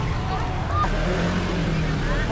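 Street traffic rumbles steadily as low engine drone and passing vehicles beneath nearby people talking.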